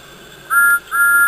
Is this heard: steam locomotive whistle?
yes